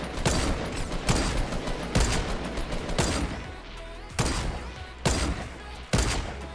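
Semi-automatic gunfire in the Fortnite video game sounds as sharp, booming single shots, about eight in total, spaced irregularly around a second apart over a rumbling game background.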